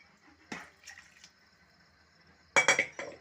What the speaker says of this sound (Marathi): कुकर पण थोडा विसळून घेते